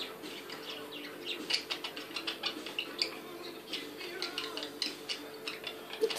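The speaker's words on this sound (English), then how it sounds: "Budgies. It's budgies." Small budgies chatter with quick soft clicks and faint chirps in an uneven patter, fairly quiet and close.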